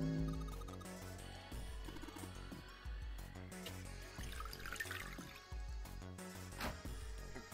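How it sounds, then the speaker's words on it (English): Red liquid poured into a beaker in the puzzle game 999, a gurgling trickle and dripping of liquid over a tonal game music background, no voices. "Pour in the red liquid."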